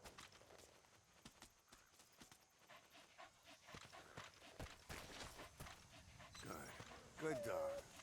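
Dog companion DD panting in the Metal Gear Solid V: The Phantom Pain video game, quick rhythmic breaths mixed with hoof-like clip-clop steps and game sounds, with someone speaking over it.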